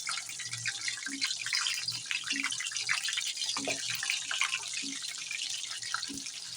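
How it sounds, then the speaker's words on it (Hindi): Eggplants frying in hot oil in a kadhai give a steady, even hiss and crackle throughout, with a faint low hum and occasional soft knocks beneath. "ऑयल हमारा गर्म हो चुका है। अब हम बैंगन डाल देंगे।"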